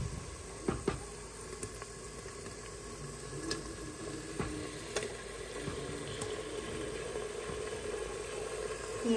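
Chopped tomatoes and green chilies hit a pan of fried onion tadka for Punjabi-style bottle gourd curry, giving a steady, low hiss of sizzling with a few faint clinks over the mixture.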